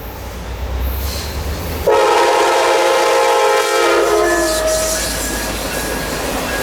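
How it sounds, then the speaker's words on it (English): A North Carolina Piedmont Amtrak passenger train led by a P-42 locomotive passes close by, its horn sounding loud and sustained over the rumble and clatter of the cars. "The Piedmont trains are technically an Amtrak service, branded and funded entirely by the state of North Carolina."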